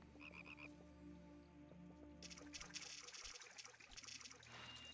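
Frog croaking from the Pikmin video game, repeated low croaks over a steady game soundscape with trickling water and bright chimes joining partway through.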